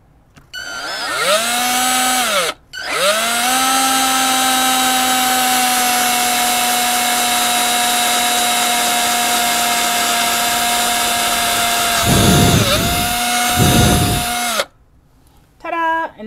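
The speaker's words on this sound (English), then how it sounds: "I'm just going to go ahead and start drilling and put the little armhole in." A power drill bores an armhole into a wooden clothespin doll, a loud, close, steady motor whine that starts, pauses briefly, runs for about twelve seconds with grinding bursts as the bit cuts, then stops.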